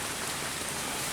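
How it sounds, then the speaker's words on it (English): Steady rain pours down on a hiking trail campsite in the Laurel Highlands, a dense, even hiss of drops on surfaces with no pauses and no voices. "the rain has slowed down a little bit"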